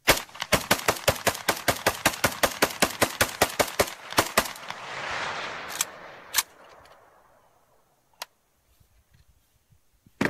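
A rifle fires a long rapid string of loud, sharp shots from a Pro Mag magazine, roughly two dozen evenly spaced reports, then a pause with a few isolated shots and fading echoes.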